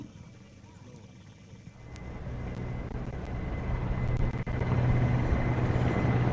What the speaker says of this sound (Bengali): পতাকা বহনকারী চারটি এমআই সেভেন্টিন সিরিজ হেলিকপ্টারের সমন্বয়ে একটি লাইন অ্যাসিস্ট্যান্ট ফরমেশন